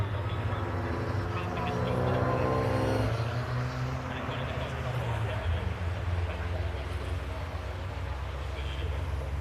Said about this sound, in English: So through the cars go.